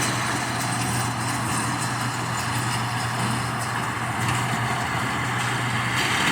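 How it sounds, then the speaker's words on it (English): A new farm tractor runs steadily on a hillside hayfield during haymaking, its engine a constant, loud drone with a strong low hum and no break across the whole stretch, with no talking. "new tractor"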